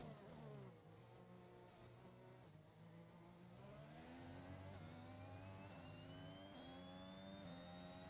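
A Formula 1 race car in the F1 21 game, its high engine note winding down through descending downshifts under braking, then rising again as it accelerates, steady and loud, no voices.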